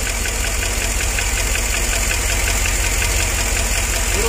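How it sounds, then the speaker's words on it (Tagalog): A Chevrolet Tahoe engine runs with a misfire, giving a steady, loud, continuous rumble with an uneven knocking pulse throughout and no voices. "Palyado yun."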